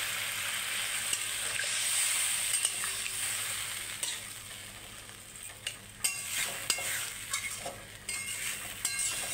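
Curry gravy with added water cooking in a pan, a soft bubbling sizzle that fades as a spoon stirs and scrapes with several clicks against the pan.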